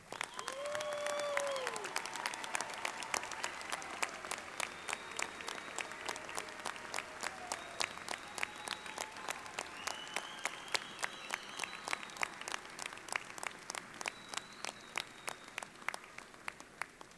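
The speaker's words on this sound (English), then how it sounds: "A round of applause." Audience at a winter university commencement applauds the graduating students, sustained crowd clapping that thins toward the end into a sparse run of distinct claps, with a brief whistle or cheer early on.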